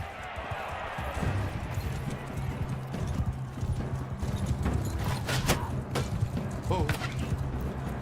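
Hooves clip-clop in a quick galloping rhythm as a horse runs during a Bannerlord battle with arrows flying. The hoofbeats come through clearly while someone talks over them.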